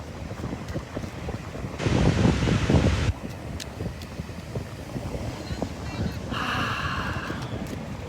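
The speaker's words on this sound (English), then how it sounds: "It's windy out here." Wind gusts buffet the microphone outdoors, a rough low rumble that swells loudly for a moment then settles into a steady blustery hiss.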